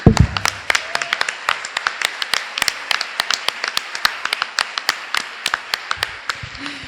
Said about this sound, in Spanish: ¿Y qué estamos aplaudiendo?